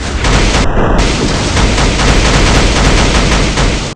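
A dense, loud barrage of rapid crackling bursts from a hero's skill in the Marvel Future Fight mobile game as scattered grains explode, a continuous gunfire-like popping volley running the whole stretch before cutting off abruptly.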